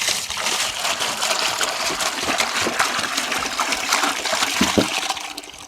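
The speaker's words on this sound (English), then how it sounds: "Okay, 2 gallon water in this 5 gallon bucket." Two gallons of water pour steadily into a 5-gallon plastic bucket, a continuous close gushing splash for several seconds with no talking.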